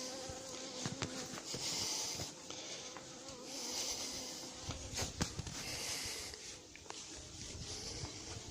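A honeybee swarm being gathered up in a home in Fontenay-sous-Bois, its dense buzzing hum steady and close throughout, with a few sharper knocks and handling noises breaking through.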